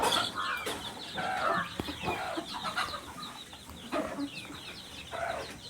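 Several country chickens, including naked neck and laying hens, cluck and chatter close by in short, repeated bursts, fairly quiet, with no talking.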